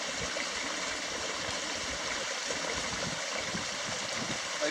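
Close, steady rushing and gurgling of a small summer stream, continuous and fairly loud with no voices.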